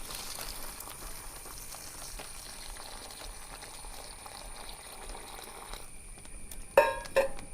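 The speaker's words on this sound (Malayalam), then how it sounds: "ഒന്നര ലിറ്റർ വെള്ളമാണ് തിളച്ച വെള്ളമാണ് കണ്ടോ ചൂടുള്ള വെള്ളമാണ് അത് നേരിട്ട് നമ്മൾ ഇതിലേക്കാണ് ഒഴിക്കുകയാണ്" A low, steady bubbling hiss runs throughout, then a short splashing pour of about 1.5 litres of boiling water onto mushroom-growing pellets near the end.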